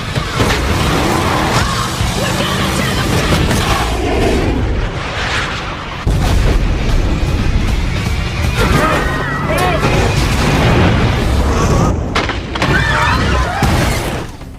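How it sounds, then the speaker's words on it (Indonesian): A loud, rumbling explosion from an action film about hired killers fills the whole stretch with dense booming and crashing debris, while a voice talks over it. "Beruntung, mereka semua berhasil selamat dari ledakan."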